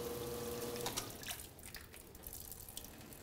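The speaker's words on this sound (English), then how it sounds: "Our reservoir is filling up" Water runs steadily into a pump-fed reservoir fitted with a float switch, a continuous close splashing and trickling flow with no talk over it.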